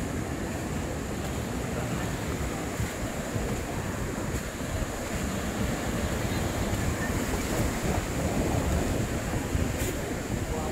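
Ocean surf at Tanah Lot on the Bali coast rolls in as a continuous broad wash of breaking waves, mixed with wind buffeting the microphone, steady and fairly loud with no talk.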